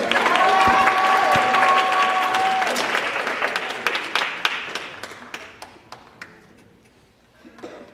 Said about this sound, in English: Everybody clap your hands and praise the Lord.